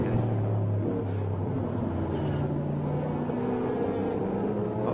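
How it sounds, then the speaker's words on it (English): A Corvette with a 5.4-litre V8 at a historic motor racing festival gives a continuous deep, loud exhaust rumble with steady tonal drone, heard throughout without pause. "The beautiful big V8 making all sorts of lovely noises from those exhaust pipes."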